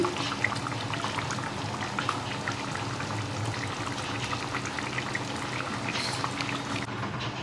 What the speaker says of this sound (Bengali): এবার দেওয়া হচ্ছে ফ্রেশ ক্রিম।